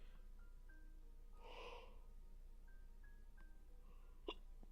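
A single short hiccup midway through, quiet and close, with a faint snort-like catch near the end against a very low background.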